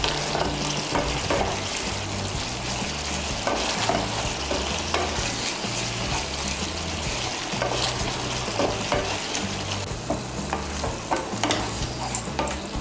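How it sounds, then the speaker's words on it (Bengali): Chicken bharta being mashed and stirred with a metal spatula in a pan, with kasuri methi mixed in: continuous scraping and stirring over a steady sizzle from start to finish, close and fairly loud, with no talking. "এভাবে একটু আমি খুন্তি দিয়ে ম্যাশ করে দেব"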